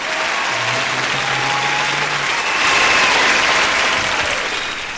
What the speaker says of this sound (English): Claps. Hand claps.